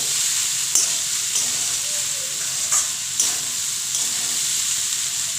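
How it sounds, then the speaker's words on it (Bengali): Cold cooked rice fries in a pan with a steady, fairly loud sizzle, and several short spatula scrapes and taps cut in at irregular moments, close-up and without voices. "একটু ঠান্ডা ভাতের একটু সময় নিয়ে ভাতটা ভেজে নিতে হবে"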